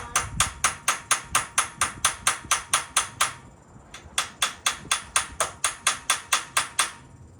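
A 1976 Oldsmobile Vista Cruiser engine that sat unused for over 21 years, not taking in fuel, gives a rapid, even click-clack, loud and close, with a brief pause midway before the clicking resumes.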